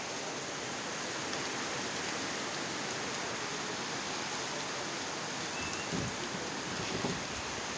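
Heavy rain pours steadily on a mountaintop, a dense continuous hiss with no pauses, loud and close, with a couple of brief low thuds near the end.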